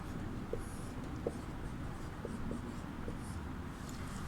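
Pen writing an answer on paper during a Class VIII Hindi lesson, soft continuous scratching with a few faint taps, close and quiet, no speech.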